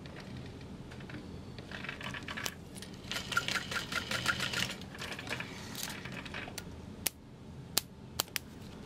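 A home sewing machine basting vinyl in place with long stitches: a faint, rapid mechanical whir in short bursts, followed by a few sharp clicks and taps near the end, with no talking.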